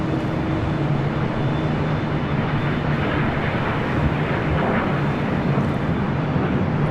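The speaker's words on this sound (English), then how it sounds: "Right up next, we'll see that Delta 767-300ER coming from Honolulu." A Delta Boeing 767-300ER airliner arriving at LAX from Honolulu, a steady, loud broadband roar of jet engines that holds unbroken with no talk over it.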